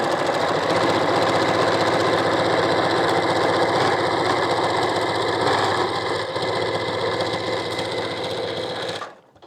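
Sewing machine stitching narrow seams in fabric scraps for an African Queen quilt block, a fast steady mechanical whir close by, running continuously and stopping at the very end.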